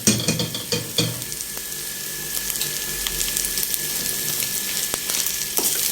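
Minced meat dropped onto softened, yellowed onions in a hot pan, starting with a few sharp clinks and clatters, then settling into a continuous close sizzle and crackle with no talking.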